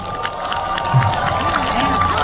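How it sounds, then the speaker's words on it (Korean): Crowd cheers and claps for the chorus singers at an outdoor song festival in Haman, a steady loud roar with scattered shouts and some voices mixed in. "우리 또 멋진 코러스분들께도 큰 박수 한번 부탁드립니다."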